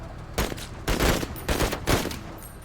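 Marines firing weapons in the strategy game Menace: several loud, close bursts of gunfire a fraction of a second apart, with no talking.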